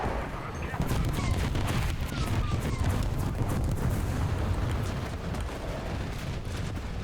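Dense, continuous heavy gunfire and explosive booms roar around a tank in War Thunder, loud and sustained with a thick rumbling low end, with a voice partly buried beneath.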